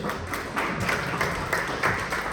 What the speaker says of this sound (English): big round of applause for Erika Lucciola from Elis Innovation Hub